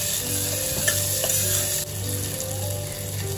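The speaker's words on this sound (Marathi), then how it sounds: "त्याला असं प्रॉपरली परतवून घ्या" Mixed vegetables sautéing in a pan for a moong dal and rice dish, a steady close sizzle with scraping stirs throughout, no talking.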